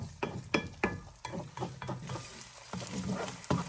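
Eggs frying in a Hexclad pan give a close, lively sizzle broken by sharp crackling pops and spatters at an uneven rhythm, with no talking.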